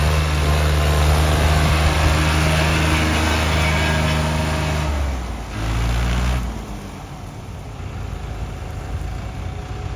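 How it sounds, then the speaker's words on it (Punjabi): A steady, loud tractor engine drones and idles close by, with a brief dip in its pitch before it settles into a quieter, constant hum. "ਆਵਾਜ਼ ਇਹ ਬੜੀ ਪਿਆਰੀ ਆ ਟਰੈਕਟਰ ਦੀ ਆ"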